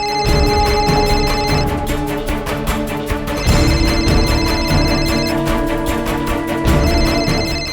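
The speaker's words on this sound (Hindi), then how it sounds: "फोन रिंग होची" A telephone rings in repeated electronic bursts, each lasting a couple of seconds with short gaps, loud and steady with no talking.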